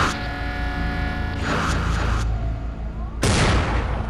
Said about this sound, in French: Soudain, une fusillade éclate.